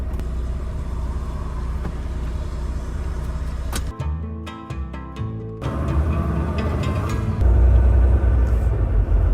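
Steady low engine rumble from a Volvo truck cab while driving, continuous and fairly loud, with a brief lull and some rattling in the middle before the drone swells again toward the end.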